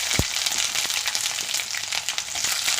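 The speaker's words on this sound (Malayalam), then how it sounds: "ഇനി നമുക്കതിലേക്ക് നമ്മൾ അരിഞ്ഞു വെച്ചിരുന്ന ഇഞ്ചി ഇട്ട് കൊടുക്കാം" Chopped ginger dropped into hot oil sizzles loudly and steadily, opening with a low thump as it goes in, then an even crackling hiss with faint stirring scrapes and no speech.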